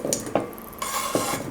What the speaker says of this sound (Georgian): და ჩავყაროთ ეს ახლა ქვაში.